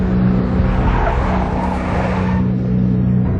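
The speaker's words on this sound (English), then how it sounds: "A big black Mercedes." A big black Mercedes skids in the Max Payne video game, giving a loud, sustained tire squeal over a steady engine roar that holds for the whole few seconds, close and dominant.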